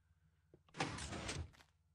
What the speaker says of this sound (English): As you see, the door closes.